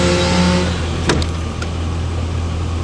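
An electric power window motor in a Chevy Silverado door whirs steadily as the glass moves, a low constant hum with a brief click partway through.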